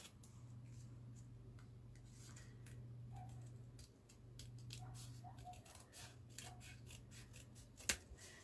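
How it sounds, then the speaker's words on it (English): Scissors snip through folded paper while cutting around a template for a simple pop-up mini book, giving quiet, irregular close clicks and slicing snips over a low steady hum, with one sharper clack near the end. "Cut round my template."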